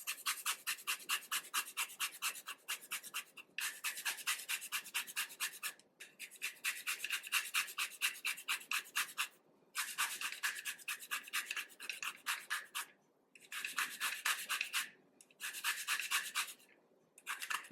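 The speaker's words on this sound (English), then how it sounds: "I'm also going to zest my lemon right in here." A lemon is zested with a zester over turkey seasoning: bursts of close, dry rhythmic rasping strokes, grouped into runs separated by brief pauses, with no talking.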